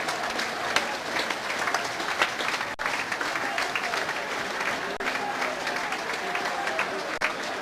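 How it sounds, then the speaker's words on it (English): Steady, dense applause from a large football crowd at Plymouth Argyle versus Fulham, broad and continuous throughout, with scattered shouts in the distance. "Applause for Argyle as they go off."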